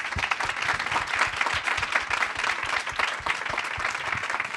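An audience at a women's thought leaders forum gives the panelists a round of applause, loud, dense clapping from many hands that carries on steadily without pause.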